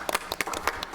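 Brief scattered clapping from a small group at a school board meeting, a handful of sharp, uneven claps over about a second.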